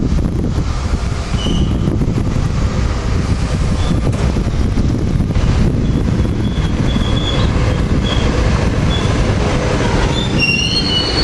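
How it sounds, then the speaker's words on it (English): A SEPTA commuter train rumbles steadily into Paoli station, wheels squealing at high pitch over a continuous rolling drone, growing brighter toward the end. "Here we got Septa train 507 coming in to Paoli"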